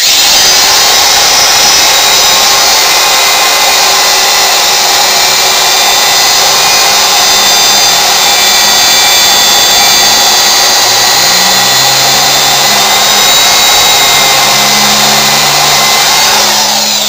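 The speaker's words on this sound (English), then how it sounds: "I'm going to operate this by foot. And I'm just going to run it against the wheel and get her running full blast." Craftsman die grinder pressed against a large gyroscope wheel to spin it up: a loud, continuous high-pitched whine and airy roar, steady for the whole stretch, with faint shifting lower tones creeping in toward the end.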